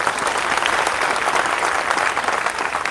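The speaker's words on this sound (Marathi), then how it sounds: "अहमदपूरच्या आपल्या भावासाठी पण एकदा जोरदार टाळ्या" A crowd at a Nashik protest gathering claps loudly for a man from Ahmadpur in Latur district, with sustained, dense applause filling the whole stretch at close range and no speech.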